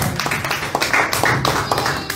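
Church congregation applauding Jesus during a sermon, a loud crowd of hands clapping steadily in quick irregular taps, close and continuous throughout.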